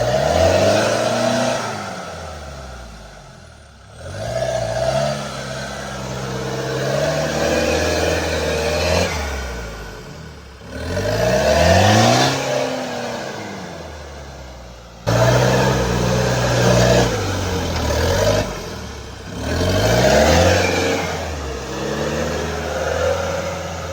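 Maruti Gypsy offroad engine revving in repeated cycles, each rev climbing in pitch and then dropping off, with several surges over the span, loud and close with no talk.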